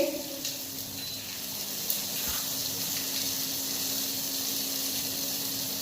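Mustard seeds, cumin and asafoetida sizzling in hot oil for a stuffed okra and potato dish: a steady, moderate hiss close by, with a brief tick partway through and no talking.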